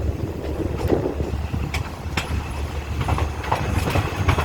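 Rapid train 168 pulls into Thung Song junction station in Thailand, a steady close rumble of rolling railcars with intermittent wheel clacks and faint squeals running throughout, no voices.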